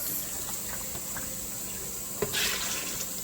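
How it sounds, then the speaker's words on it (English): Cups of water are poured from a tap onto a pound of beans for pressure cooking, a steady close filling sound with a brief clink and a short louder splash near the end. "So I'm going to put 3 cups of water in there, just enough to cover the beans."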